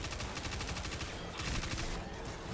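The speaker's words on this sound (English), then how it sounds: "submachine guns are so fun." Submachine gun fire in the shooter game Destiny 2, rapid continuous bursts of shots rattling fast and loud, broken by a brief lull before firing resumes.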